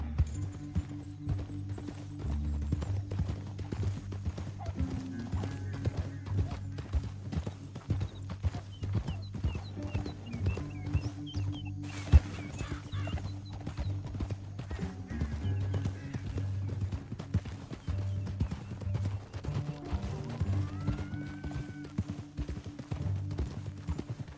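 Horses' hooves clip-clop steadily in a canyon, the rhythmic clopping running nearly the whole time beneath a low musical score, with an occasional whinny and a brief sharp sound near the middle.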